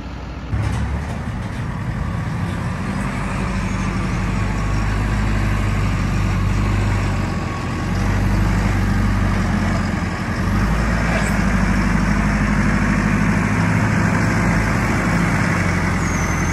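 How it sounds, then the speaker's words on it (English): A farm vehicle's diesel engine runs while tipping a load, a loud, steady low rumble that holds almost unchanged throughout. There is a slight dip in level partway through, with no talk. "You've got to keep tipping a bit, then pulling out, then we push it in with a forklift and then tip another load."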